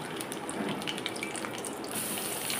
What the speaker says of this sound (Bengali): এখন তেলের মধ্যে দিয়ে দিচ্ছি।